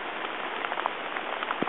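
Soft, steady patter of rain falling around hikers on a trail, close and quiet, a dense wash of droplets with occasional sharper drips.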